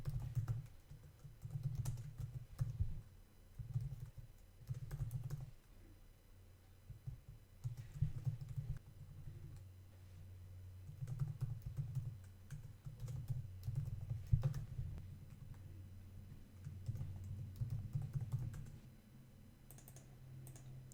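City names are typed on a computer keyboard in quick bursts of soft, close clicking with short pauses between them, going on for about twenty seconds.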